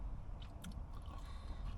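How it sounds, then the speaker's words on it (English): Someone eats crunchy Five Guys fries seasoned with Cajun spice, giving close, quiet bites and chewing crunches in a few short bursts. "The fries are kind of crunchy."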